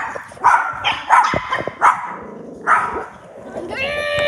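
Several sharp, close dog barks come in quick bursts with short pauses between them, followed by a brief whine, and a voice briefly in the background.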